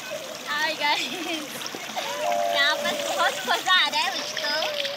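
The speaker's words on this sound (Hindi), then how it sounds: "हसदेव नदी में श्रेया नहा रही" A young girl bathing in the Hasdeo river splashes water steadily as adults and children talk and call out nearby, their voices largely masking the splashing.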